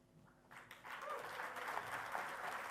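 Audience applause breaks out at a public gathering in Australia for the Uluru Statement from the Heart, starting thin and swelling after half a second into a steady, dense wash of clapping that holds to the end.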